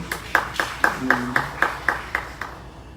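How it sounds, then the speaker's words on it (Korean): Distinct, evenly spaced hand claps, about ten in a steady beat, from a church Bible study group, moderately near and fading slightly toward the end, with a faint tonal hum underneath. "맞았어, 박수."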